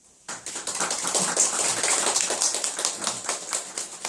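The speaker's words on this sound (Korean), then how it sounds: "우리 현주 선배님한테 박수 한번 치있어" A gathering of alumni-association members applauds their long-serving secretary, a dense steady patter of many hands clapping together at moderate distance, continuing evenly without talk.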